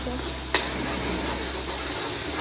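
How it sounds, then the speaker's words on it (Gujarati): Soft, constant sizzling of onions frying with ginger-garlic paste in a pan close by, with one brief clink of a utensil early on. "હવે આ ડુંગળીને હલાવતા રહીશું"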